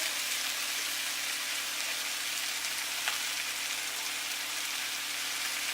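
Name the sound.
pork steaks and vegetables searing in hot pan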